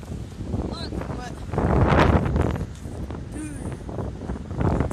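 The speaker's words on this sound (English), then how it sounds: "It's windy right now, so if the audio's messed up, sorry." Wind buffets the microphone on a beach in Mexico near the border, rising into a heavier gust midway, while a voice talks over it.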